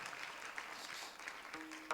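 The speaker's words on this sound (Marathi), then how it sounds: "जोऱ्यात टाळी वाजवा. जोऱ्यात." Audience applause at a Marathi Warkari kirtan, a soft, steady patter of clapping hands heard from a distance that holds at low volume for the whole stretch.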